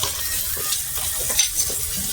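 A coriander and cumin spice paste sizzles and fries in a pan while being stirred, a close, steady crackling hiss with soft scraping.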